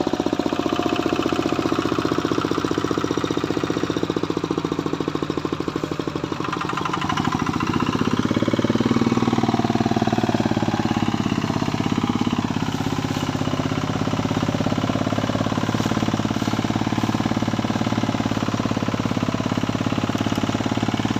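A racing E-taen farm vehicle fitted with a single-gear Mazda gearbox runs its engine loudly and steadily throughout, a harsh rapid knocking chatter that shifts in pitch midway as the revs change.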